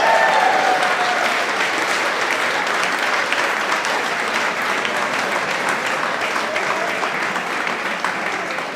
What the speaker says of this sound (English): everybody's cheering